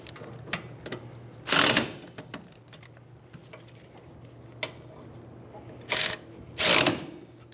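Ratchet spinning caliper bracket bolts onto a Toyota Camry rear brake, with several short bursts of rapid clicking over quiet workshop background.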